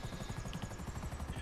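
A helicopter in GTA V Online thuds steadily with rapid rotor beats over a low engine drone, loud and close throughout, with no talk over it.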